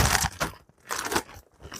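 Crunchy tortilla chips are handled for a taco casserole, giving two bursts of crisp crackling and crunching separated by a short pause, close and fairly loud.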